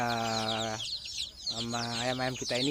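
Free-range village chickens cluck and squawk up close in loud, harmonic calls, with a short gap of softer noise before more clucking resumes.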